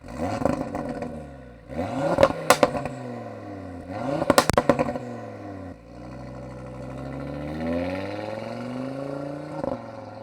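An Audi RS3 8V revs through its exhaust with tuned crackle settings, the engine rising and falling in two sharp blips, each ending in a cluster of crackles and pops, then a longer steady rev, all close and loud.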